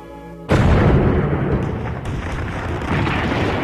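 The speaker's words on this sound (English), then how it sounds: "The cannons spoke for war." A deep, loud boom of cannon fire erupts suddenly and rolls on as a sustained, rumbling roar, like heavy artillery fire.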